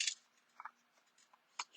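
Scissors snip through cardstock in a few quiet, brief cuts separated by pauses, close and soft in a calm room.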